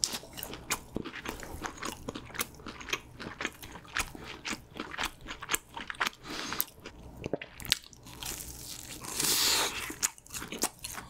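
Close, loud crunchy bites and chewing of a thick sweet potato cheese roll coated in Pringles, a Korean convenience-store snack, with repeated crisp crunches and no talking.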